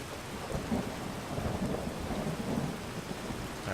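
Steady rain and rumbling thunder in the Skyrim mod Enderal, a continuous dense wash of falling rain with low rolling thunder underneath, moderately loud and without talk.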